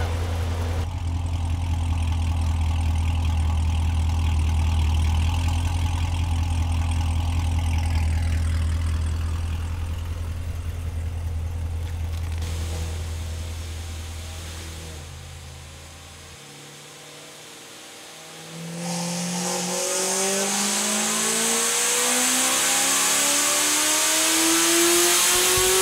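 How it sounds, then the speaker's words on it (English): A supercharged Chevrolet S10 running 12 pounds of boost revs hard on a dyno, a loud, close engine climbing through long pulls, dropping away briefly, then screaming up again with whine. "So this one is all wrapped up and ready to go on the dyno."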